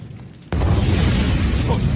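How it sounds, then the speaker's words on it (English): A smoke bomb goes off in an anime scene: after a half-second lull, a sudden loud burst erupts into a sustained, dense hiss and rumble that holds steady to the end. "What's that? A smoke bomb?"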